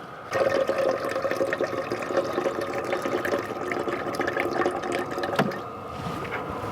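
Water drawn from a tap while truck camping in winter, a steady rushing, filling flow held at an even level for several seconds, close by, with a brief knock near the end.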